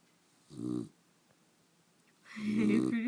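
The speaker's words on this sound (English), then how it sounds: "Why are you snoring so loud?" A puppy with an overbite snores loudly while awake, two close, rough snorting breaths about a second and a half apart, with a voice speaking nearby between them.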